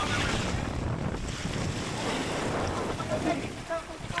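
Strong wind buffets open sea off an island, with rough waves surging and breaking nearby; a loud, continuous broadband roar with heavy microphone wind noise lasts the whole stretch, with no clear pauses.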